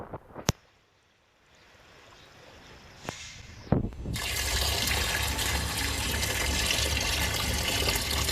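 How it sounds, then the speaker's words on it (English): Water pours steadily into a container while IC chips are rinsed during gold recovery, starting after a few sharp clinks and then running as a loud, continuous splashing stream. "Wash carefully IC chips with water 3 times."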